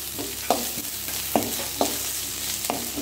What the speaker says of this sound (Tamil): இப்போ வெங்காயமும் வதங்கிடும், இஞ்சி பூண்டும் வதங்கிடும்.